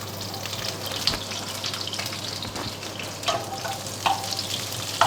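Onions frying in a pan for a turkey curry, a steady close sizzle with occasional louder crackles and stirring scrapes over a constant background hum.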